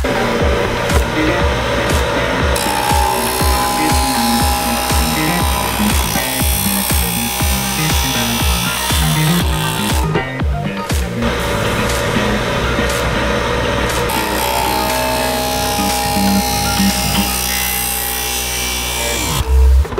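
A carbon fiber tube being trimmed: a rough, continuous grinding and sawing noise runs for about twenty seconds, loud and close, with uneven rhythmic scraping and a brief pause midway.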